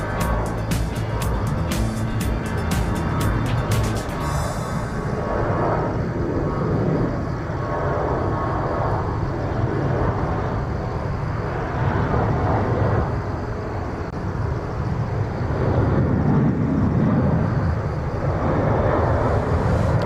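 A Jeju Air airliner at Incheon airport fills the clip with a steady, loud jet roar that holds for about twenty seconds, rising and swelling slightly as it moves past.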